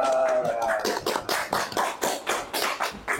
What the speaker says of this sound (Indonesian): Tepuk tangan lu.